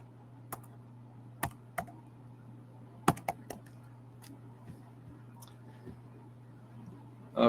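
A computer keyboard is typed on in scattered bursts of sharp clicks over a steady low hum, with a few louder keystrokes standing out and no voice.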